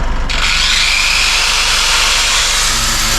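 A Dnipro-M 1400 W electric saw powered through an inverter starts and runs at a steady, loud high-pitched whine that stays constant, with no talk.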